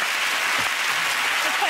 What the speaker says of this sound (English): That took the man from Canada to start the round of applause